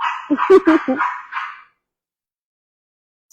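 Pugs let out a quick cluster of short, yappy barks and whines up close, loud at first and fading out after about a second and a half, followed by silence.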